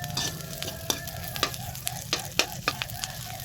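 Onions sautéing in a pan, a steady sizzle with sharp crackles and pops scattered throughout, close and moderately loud.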